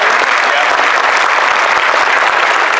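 At the MFF 2017 opening ceremonies, a large crowd answers with loud, dense applause. The roar of clapping is continuous and close, with some crowd voices mixed in.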